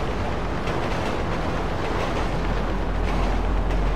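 A train in the video game GTA V rumbles past as a dense, steady roar that fills the whole short stretch at an even, moderate level, with no talking over it.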